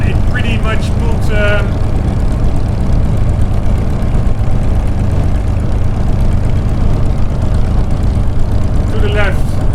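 A steady airplane engine drone while taxiing in Microsoft Flight Simulator 2020, a loud continuous hum running throughout with brief higher whines at the start and end.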